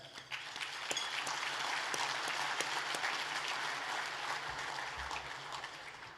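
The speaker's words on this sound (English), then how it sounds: "a quick round of applause for everyone who helps make this happen" Sustained applause from a luncheon audience at a baseball Hall-of-Famer event, many hands clapping in an even, moderately loud wash with a few sharper claps standing out.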